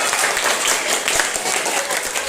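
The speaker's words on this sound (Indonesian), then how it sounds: "Tepuk tangan dong" Classroom applause from school students during a teaching-practice lesson, a short burst of brisk clapping from a group of children, fairly loud and continuous with faint voices underneath.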